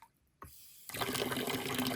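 Water rushes through newly installed double valves. A click and a short gurgle are followed by a loud, steady, close-up gush that continues to the end.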